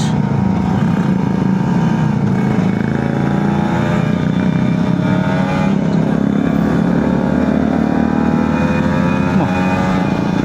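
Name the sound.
big motorcycle riding uphill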